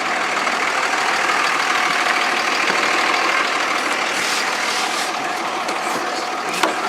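A ranch truck's engine drones steadily from inside the cab, a constant broad rumble with road noise that holds unchanged throughout, with no talking.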